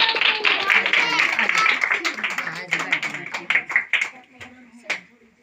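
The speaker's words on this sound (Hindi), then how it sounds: "इसी तरह अभी हम बाजी इरशाद को आपकी जोरदार तालियों" A small congregation claps for Baji Irshad at a Christmas worship service, sharp hand claps fading toward the end while a voice talks over them.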